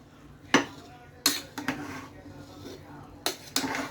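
Spiced rice pulao with a spoonful of ghee stirred in a pot, several scraping and clinking strokes of a spoon against the vessel, close by, with soft speech in between.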